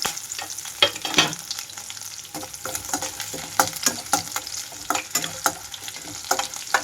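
Tempering seeds crackle and sizzle in hot oil as crushed garlic and curry leaves go in, with sharp irregular pops over a steady frying hiss and the occasional scrape of stirring.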